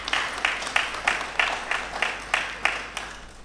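Rhythmic clapping from a ceremony audience in Côte d'Ivoire, with distinct claps landing in an even beat about three per second, each a crisp burst that fades before the next.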